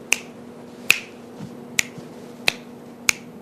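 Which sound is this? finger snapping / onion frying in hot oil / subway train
finger snapping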